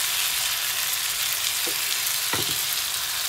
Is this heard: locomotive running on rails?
no